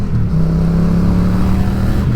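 Motorcycle engine running steadily with a held rev, a strong low droning tone close to the rider, continuous and loud with wind rush, no speech.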